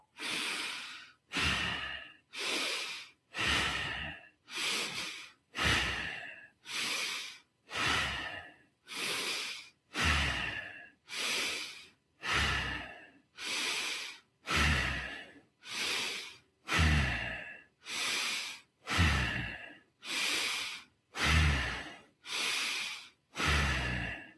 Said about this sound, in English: let's begin with 30 rounds of bow breathing. In through the nostrils, out through the nostrils.